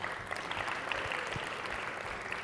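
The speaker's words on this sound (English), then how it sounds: "Round of applause, paki paki for Rodrigo." Steady, moderately faint applause from a conference audience at a youth intersectionality session in Aotearoa New Zealand, dense even clapping from a crowd that holds at a constant level throughout.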